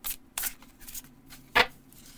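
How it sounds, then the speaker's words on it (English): Tarot deck being overhand shuffled, a series of brisk papery riffles in irregular bursts with a louder swish near the end, close up and alone. "You can do an overhand shuffle."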